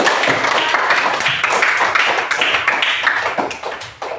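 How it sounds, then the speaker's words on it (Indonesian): A group clapping hands in applause in a classroom setting, a dense, loud, continuous patter of claps that holds steady for several seconds before easing slightly at the end. "Iya, tepuk tangan."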